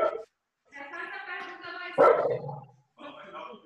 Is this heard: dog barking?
yes